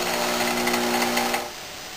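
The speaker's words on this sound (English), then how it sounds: "now I have just turned the grinder off, but I finished grinding the top surface" A bench grinder grinds the top surface of a lathe tool bit in a machine shop, a steady loud close whine with a humming tone that drops off as it is switched off near the end.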